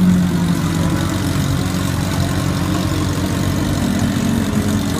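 A car engine with a custom-built exhaust idles steadily and loudly up close, a continuous low rumble with no talking.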